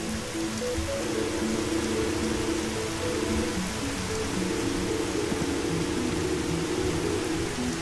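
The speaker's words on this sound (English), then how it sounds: "It's just raining." Steady rain falling in the video game Dig or Die, a dense continuous hiss that stays at an even level throughout, with a faint tonal background of game music underneath and no talking.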